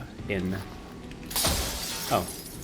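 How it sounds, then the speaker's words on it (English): Glass shatters in the Deathloop video game as a loud sharp crash with tinkling fragments, preceded by a brief voice and mixed with game sounds. "never realized I could break that glass"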